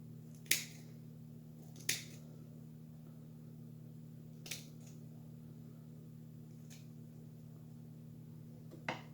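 Scissors snip stray fibers off a handmade model cedar tree: four or five sharp, isolated clicks spaced a second or more apart over a steady low hum, fairly quiet and close.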